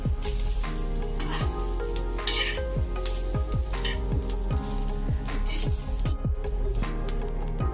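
Kolhapuri misal spice paste roasting in a pan, loud steady sizzle with a rapid series of scraping stirs and spatula knocks throughout, close and continuous.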